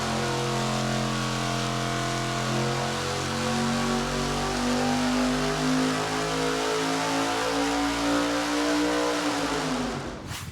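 A naturally aspirated thousand-horsepower engine runs on a dyno with a loud, sustained roar. Its pitch climbs steadily as it revs up, then it cuts off abruptly near the end.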